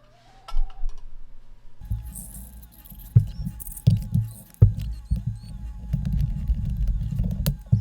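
BBs poured into the metal pan of a homemade Stumpf fiddle make a close, steady rattling patter that thickens after a brief quiet start and runs on with a few sharper clatters.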